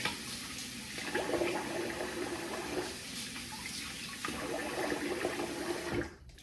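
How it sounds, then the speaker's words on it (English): Tap water runs steadily into a sink while a face is rinsed after shaving, with faint splashing and hand movements over the flow before it cuts off near the end. "All right, I'm gonna rinse the face."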